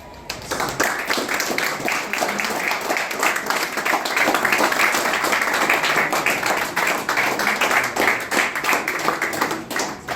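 An audience at a French-language school graduation ceremony claps steadily for about ten seconds, a thick, even roar of many hands that swells slightly in the middle before tapering off.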